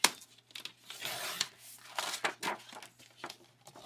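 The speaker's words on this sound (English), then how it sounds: "So let's cut our cardstock in half to make our A2 size card." Cardstock being cut in half for a card, a series of close, crisp scraping and slicing strokes with papery rustles between them, fairly quiet with no talk.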